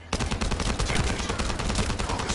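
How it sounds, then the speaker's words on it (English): Rapid, dense gunfire in the video game The First Descendant, a continuous loud burst of automatic shots crackling without pause and heard alone. "That stopped the gunfire."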